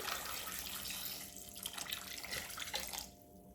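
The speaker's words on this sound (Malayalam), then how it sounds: "ചേമ്പ് മുങ്ങിക്കിടക്കാൻ പാകത്തിന് വെള്ളം വെച്ചെടുക്കുന്നുണ്ട്" Water pours steadily from a tap into a cooking pot of taro, a continuous splashing flow that cuts off near the end.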